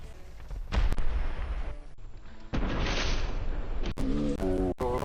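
War Thunder tank cannon fire: several loud booming shots with sharp onsets, heavy rumbling low end and crackling tails, spread across a few seconds of continuous battle noise.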